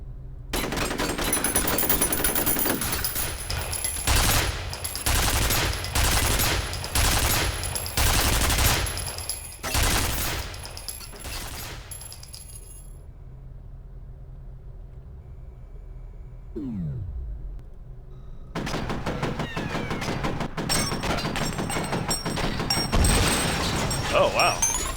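Rapid bursts of automatic gunfire in the shooter F.E.A.R., loud and close, running for about ten seconds, then a quiet pause and a descending mechanical whine before heavy, sustained shooting resumes.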